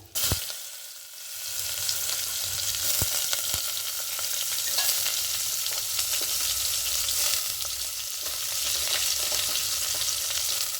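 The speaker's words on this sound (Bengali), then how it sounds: "এবার এখানে গাজর বিনসগুলো দিয়ে দেবো" Carrots and beans hiss and sizzle loudly in hot oil with whole cinnamon, cardamom, cloves and bay leaves, a dense continuous fry for a vegetable paneer pulao, with a few scraping stirs and no voices.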